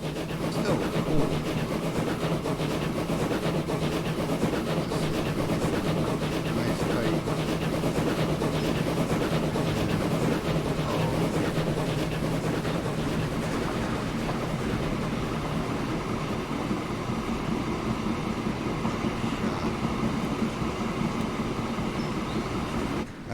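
A steady, continuous rumble of a train running in the game Transport Fever 2, with a constant rolling clatter throughout and no voices.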